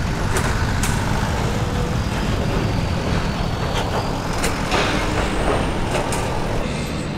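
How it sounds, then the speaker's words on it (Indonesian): An ANS bus from West Sumatra, a single-glass coach named Peace Love, drives out of a ferry hull amid a constant heavy engine roar, with occasional short hissing bursts like air brakes. "Bis yang pertama kali keluar dari lambung kapal ini ANS"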